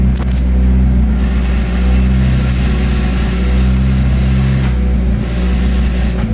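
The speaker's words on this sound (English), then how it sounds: "You hear that clutch?" Clutch of a big turbo Genesis Coupe worked inside the car while the engine idles with a heavy, steady low rumble and a faint mechanical click near the start, heard up close.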